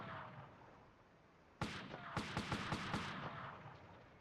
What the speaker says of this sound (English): So that cannon immediately destroyed me.